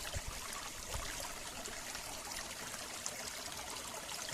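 Leaves for a vegetable dish being rinsed under a steady stream of running water, a continuous close trickle and splash with no talk.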